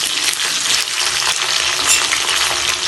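Chicken pakoras fry in hot oil over full heat, producing a dense, close, bubbling sizzle with light crackle that holds steady throughout.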